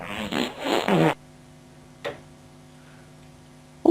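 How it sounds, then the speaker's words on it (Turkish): A short, loud fart-like burst of about one second, then near quiet under a steady low hum, with a faint blip midway and a brief sharp sound at the very end. "Of ne kadar çok osuruyorsun."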